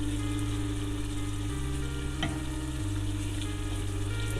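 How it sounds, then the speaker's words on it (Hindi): Chickpeas (chole) sizzle steadily as they fry in a pan while being stirred, with a constant close frying hiss and a low hum underneath, and no voices. "तो इसको हम हिला लेंगे"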